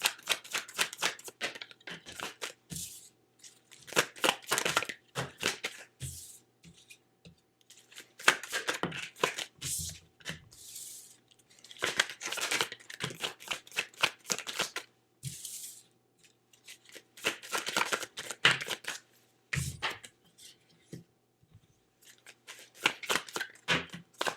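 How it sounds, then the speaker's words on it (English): Tarot cards are shuffled by hand in repeated quick bursts of crisp riffling and flicking, close and dry, separated by short pauses across the whole stretch, with no voice. "Just give me a moment here to kind of pull some cards for you."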